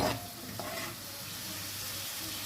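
Meat being sautéed in a pot, browning before tomatoes go in, a continuous even sizzle close by with a brief clatter at the start and no voices.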